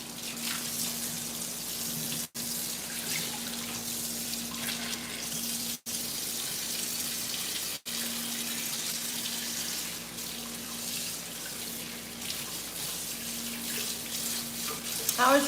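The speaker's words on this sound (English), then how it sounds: "washing my sheet pan" Sheet pan being washed under a running kitchen tap, a steady broadband rush of water with brief pauses and faint clatter, loud and close, no talking.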